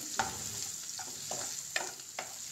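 Mushrooms sauté in a hot pan with a steady, bright sizzle throughout. Several scraping stirs cut through it at irregular moments, close and fairly loud, with no talking.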